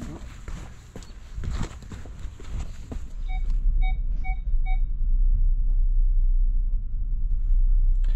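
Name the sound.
van beeping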